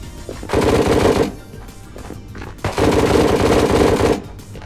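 In the video game Ghosts of Tabor, a boss enemy fires two long bursts of automatic gunfire, loud and close, separated by a short pause, with no voice over them.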